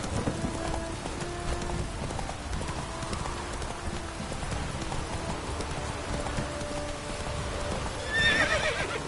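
A horse in The Witcher 3: Wild Hunt gallops with a steady clip-clop under a soft, continuous background, and a neigh or whinny rises near the end.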